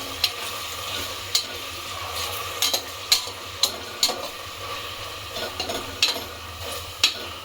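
Biryani masala with a handful of mint fries in a pan for chicken biryani, giving a steady low sizzle broken by sharp scraping clicks of a spoon against the pan every second or so.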